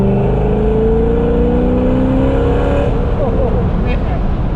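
A modified, cammed C6 Corvette Z06 with an LS7 engine drops into third gear and accelerates hard, its loud engine note climbing steadily in pitch from inside the cabin.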